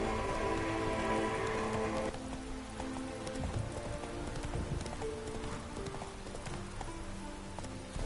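Hooves of the horse Roach clip-clop steadily through rain in The Witcher 3, rhythmic and close, under a constant patter of falling rain, with a faint low voice in the background.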